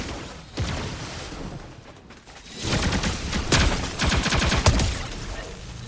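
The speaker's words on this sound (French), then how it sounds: "c'est l'occasion d'utiliser le nouveau canon à arc électrique" Rapid crackling bursts from an electric arc cannon in Fortnite come in clusters, quiet at first and then dense and intense, with sharp repeated zaps.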